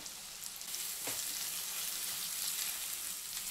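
Ginger garlic paste and curry leaves frying in a pan for chicken fry, a steady, fairly faint hiss of sizzling oil with a brief scrape partway through.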